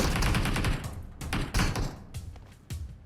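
Automatic gunfire in a shooter video game: dense rapid bursts of shots rattling close and loud, broken by short pauses and a few separate later volleys.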